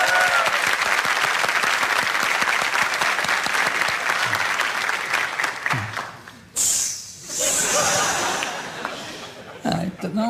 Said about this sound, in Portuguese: Parece um aplauso